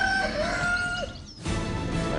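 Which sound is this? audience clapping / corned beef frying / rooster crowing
rooster crowing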